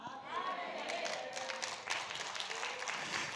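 A church revival congregation claps together, a dense burst of applause and crowd noise that holds fairly steady for a few seconds at moderate loudness.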